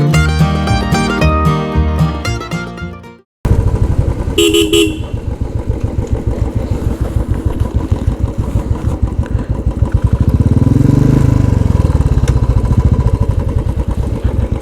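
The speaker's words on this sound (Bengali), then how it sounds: "মানে আমার বাইকের গলাটা ঘ্যাট ঘ্যাট ঘ্যাট ঘ্যাট করে যাচ্ছে।" A motorcycle engine runs roughly with a loud, steady chugging pulse on a road trip from Kolkata to Odisha, following a brief burst of horn-like tones, and swells louder near the end as it revs.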